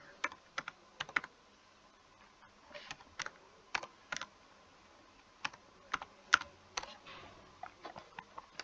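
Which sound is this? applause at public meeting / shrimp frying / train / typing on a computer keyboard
typing on a computer keyboard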